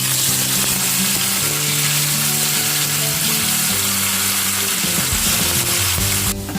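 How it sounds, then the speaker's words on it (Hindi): Besan gatte, Rajasthani gram-flour dumplings, deep-frying in hot oil, a dense, steady, loud sizzle throughout, with music playing underneath. "गट्टे तो हमने फ्राई कर लिए थे"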